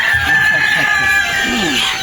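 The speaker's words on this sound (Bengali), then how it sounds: "এদিকে এই মুরগিগুলো কি মুরগি সব দেশি মুরগি" Free-range native chickens on a farm cluck steadily while a rooster crows, the birds close and fairly loud throughout.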